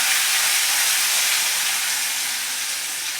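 Ginger and chili paste dropped into hot oil for tempering, sizzling as a loud, dense, steady hiss that eases slightly toward the end.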